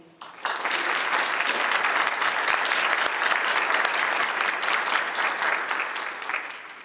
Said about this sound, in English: give a hand of support and an applause for that fan club